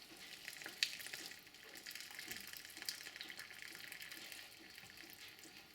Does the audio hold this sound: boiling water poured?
yes